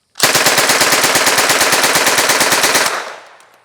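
An MP40 open-bolt submachine gun fires a long, loud, close-range burst of rapid, evenly spaced shots lasting almost three seconds. A short echoing tail follows as the firing stops.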